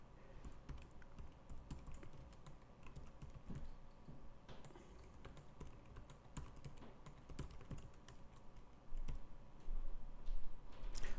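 Rapid, continuous typing on a computer keyboard while entering install commands, a dense run of close clicks and taps that grows louder and busier toward the end, with no voices.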